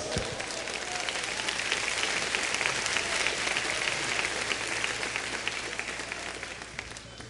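A church congregation at an Assembleia de Deus service bursts into sustained, dense applause that fills the room, loud and steady for several seconds with no break.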